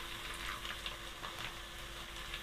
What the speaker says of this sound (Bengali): আদা বাটা এবং রসুন বাটাটাকে হালকা করে ভেজে নিব